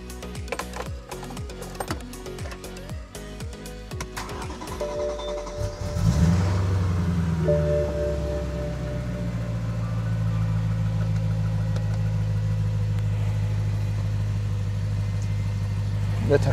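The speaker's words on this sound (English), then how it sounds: "I want to test run the engine, see if anything abnormal." After several seconds of clicking and clattering under the hood, a BMW M3 with the S65 V8 fires up around six seconds in and settles into a steady, close idle that runs for the rest of the clip.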